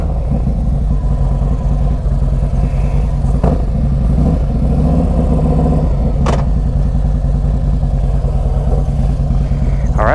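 Harley-Davidson Street Glide Special FLHXS motorcycle engine running and revving close by, a steady loud low rumble throughout with a couple of sharp throttle blips.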